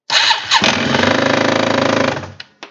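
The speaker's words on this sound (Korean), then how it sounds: "이런 뭐다? 엔진 소리다. 엔진 나가리다." A Yamaha TMAX scooter engine with a damaged crankshaft starts and runs loudly for about two seconds with a rough, rapid knocking pulse, then cuts out with a couple of short bursts.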